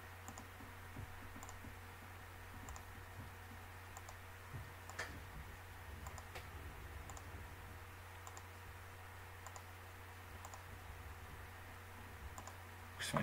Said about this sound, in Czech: Tak a teď už jenom klikám.